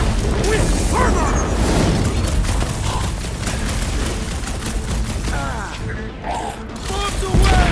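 Bombs burst in a chaotic firefight in the video game Marvel's Guardians of the Galaxy, a dense, continuous roar of blasts and debris with mechanical clanks layered in busy game audio.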